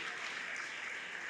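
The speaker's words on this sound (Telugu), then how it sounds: "వీరందరికీ గట్టిగా చప్పట్లు కొట్టండి." Audience applause for a church youth group at a parish silver jubilee celebration in Saligramapuram, Visakhapatnam: a dense, steady clapping roar that is close and even and holds for the whole moment without a break.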